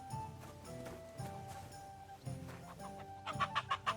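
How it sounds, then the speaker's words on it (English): Chickens cluck and peck in a medieval village in Kingdom Come Deliverance II, with short scattered clucks over soft ambient music, ending in a quick burst of louder clucking. "here's some chickens."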